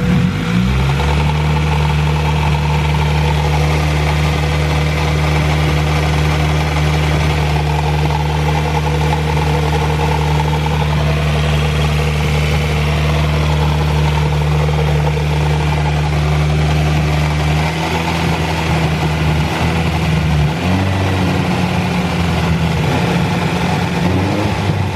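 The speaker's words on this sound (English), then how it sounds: "it almost sounds like an exhaust rattle" A Honda B18B engine runs steadily at a loud, close rumble, then the revs shift near the end, with a faint rattling buzz from a suspected exhaust rattle throughout.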